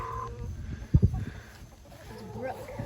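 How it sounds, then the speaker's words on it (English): A tall Varia Ova rooster among farm chicken flocks in their pens, giving a couple of short close clucks over a low murmur of hens and faint background hum. "There's that Varia Ova rooster."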